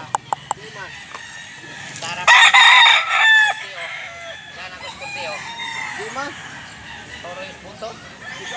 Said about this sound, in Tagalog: Napakagandang manok dol.